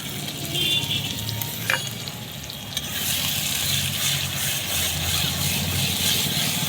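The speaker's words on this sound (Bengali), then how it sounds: "আদা রসুনটাকে একটু ভালো করে কষিয়ে নেব" Ginger, garlic and green chilli paste frying with browned onions in a pan, a steady, loud sizzle running throughout, with a brief scrape of a utensil near the start and no speech.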